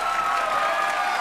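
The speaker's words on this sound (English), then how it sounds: "let's give them a round of applause." A brief moment of steady applause from the audience at a school academic awards program, honoring class officers.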